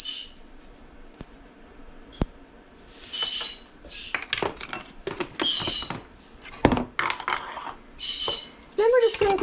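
Pecans and breadcrumbs being mixed in a container for maple pecan chicken, giving scattered clinks, scrapes and knocks of varying loudness, with a talking voice between them.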